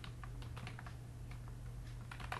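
Steady typing of PHP code on a computer keyboard, close-up, with quick irregular keystrokes over a constant low hum and no voice.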